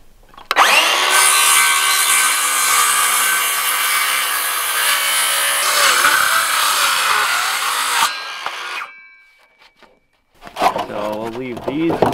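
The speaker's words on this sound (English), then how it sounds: "so that means we gotta go around and cut these all to length" A power saw cuts lumber boards to length while interior walls are framed in a shipping container cabin, a loud, sustained whine for about eight seconds, then quiet before voices resume.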